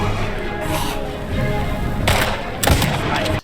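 Gunfire in the Indiana Jones and the Great Circle video game: sharp broadband shots burst out near the two-second mark and again more loudly around 2.7 seconds over a steady, dense game soundscape.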